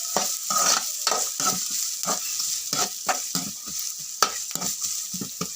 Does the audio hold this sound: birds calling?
no